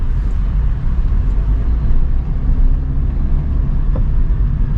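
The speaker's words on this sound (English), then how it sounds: "Transmission sound is some slightest harder," Cabin drone of a 2021 Maruti Suzuki XL6 MUV being driven, a steady low rumble of engine, transmission and road noise that stays even and continuous throughout, with no talking.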